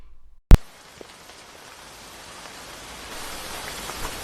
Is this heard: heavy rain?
yes